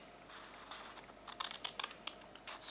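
Scissors cutting paper for a Valentine heart craft, making crisp snipping and rustling bursts, close and quiet, with denser clustered cuts in the second half and no talk.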